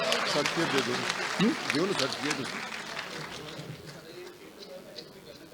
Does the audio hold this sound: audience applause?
yes